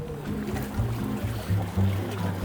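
Water pouring from above onto a turning water wheel in a Japanese mountain village, a steady splashing rush with a low rhythmic churning pulse, moderately loud and close, no voices.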